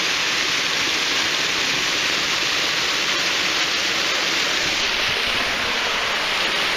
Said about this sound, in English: Yeah, that's the waterfall.